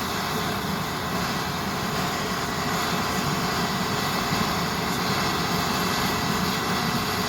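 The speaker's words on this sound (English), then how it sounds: "You can see that spitting petrol in the air." A Swiss Army petrol burner stove roars with a steady, loud, close hiss of burning fuel that holds unbroken throughout, with no voices.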